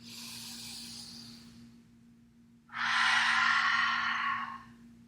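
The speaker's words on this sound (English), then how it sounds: "Dirga Pranayama" Deep three-part yogic breathing in Dirga Pranayama during a root chakra yoga flow: a soft airy exhale, a pause, then a longer, louder breath rushing through an open mouth, close and alone.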